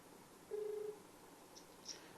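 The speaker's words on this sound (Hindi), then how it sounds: "देखिए, ज्योति मौर्य का हमने कॉल लगाया है।" A telephone call being placed, with a steady electronic tone lasting under half a second followed by two brief faint beeps, heard quietly over a low background hiss.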